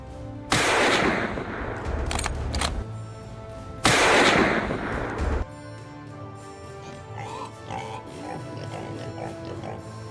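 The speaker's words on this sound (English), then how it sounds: "I raised my rifle and fired." Rifle shots fired at wild hogs in a farm field: two loud, sharp reports a few seconds apart, each followed by a long rolling echo, then quieter outdoor ambience with faint rustling.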